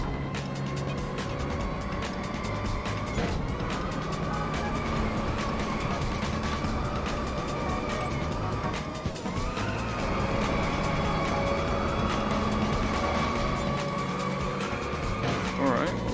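Race cars overtaking in the drift racing game Inertial Drift, with sustained whining engine tones that rise and shift in pitch, tire noise and a steady roaring mix running throughout.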